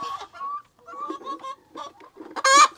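Rhode Island hens clucking close by on a small egg farm, a run of short, uneven calls with brief pauses, ending in a louder, higher squawk.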